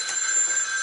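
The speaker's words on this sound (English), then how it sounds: "And there's my phone just gone off." A phone goes off with a bright, steady electronic ring, a short sustained tone that sounds close and fairly loud, with no one speaking over it.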